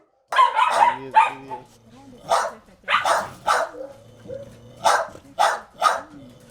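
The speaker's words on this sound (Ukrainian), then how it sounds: "Чекає на своїх господарів собака Аза і залюбки виявляє свою повну довіру людині." Several sharp dog barks in irregular bursts, fairly close, with a person's voice or whimpering sounds mixed in between.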